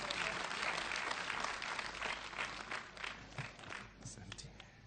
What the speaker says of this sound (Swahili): Wow, tupige rais makofi.